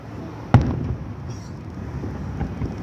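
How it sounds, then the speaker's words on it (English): A single firework bursts with a sharp, loud bang, followed by a rumbling decay and faint crackle in open air. "I'm just admiring how great these fireworks are."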